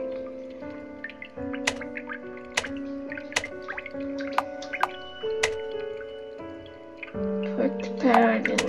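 A water bottle fills in the game The Witch's House, heard as a run of tonal drips and plinks with a liquid swirl at the end, under faint background music.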